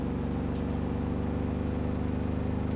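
A lorry's engine drones steadily as it drives in BeamNG Drive, a low, even, pulsing hum with a regular throb, unbroken and fairly loud over the short stretch.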